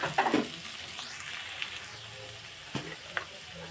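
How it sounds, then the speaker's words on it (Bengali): Chopped onion fries lightly in a pan for a potato momo filling, a soft, steady sizzle close by with a couple of faint utensil taps and no talking. "পেঁয়াজ কুচনোটা দিয়ে আমি কিন্তু কিছু বেশি করে ভাজবো না সব হালকা হালকা করে ভাজবো"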